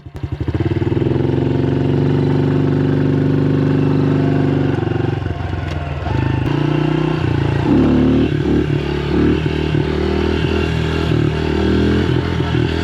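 A 110cc motorcycle engine runs hard and steady, its pitch shifting as the throttle changes during wheelies, loud and continuous with no voices.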